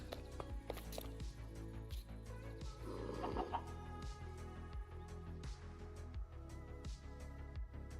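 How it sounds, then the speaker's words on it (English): A chicken jockey in Minecraft clucks repeatedly, near and distinct, against a constant blocky game soundscape, with quick footstep-like pattering mixed in and no talking. "And a super loud chicken jockey."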